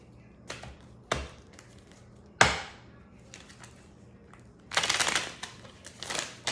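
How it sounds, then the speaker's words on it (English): A tarot card deck being shuffled by hand: a few sharp separate taps and slaps, then a quick riffling flurry of cards near the end, close and clear. "This thing did not want to shuffle."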